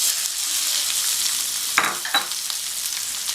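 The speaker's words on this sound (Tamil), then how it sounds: "மறுபடியும் ஸ்டவ் ஆன் பண்ணிவிட்டு கட் பண்ணி வச்ச உருளைக்கிழங்கை சேர்த்துக்கலாம்" Cut potatoes fry in a pan with chili powder masala for a Tamil lunchbox dish, giving a steady broad sizzle throughout with two sharper stirring scrapes near the end and no voices.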